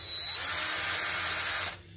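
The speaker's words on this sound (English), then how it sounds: "If you're wondering why I'm using a drill instead of an impact" A cordless drill whirs steadily for under two seconds, loosening bolts on a stuck hydraulic tank, a close, bright motor whine that stops abruptly.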